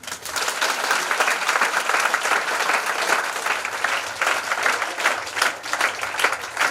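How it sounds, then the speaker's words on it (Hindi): Wedding guests applaud during the ceremony, a loud, close, continuous burst of many hands clapping with crisp individual claps standing out as it goes on. "ताली बजाएं।"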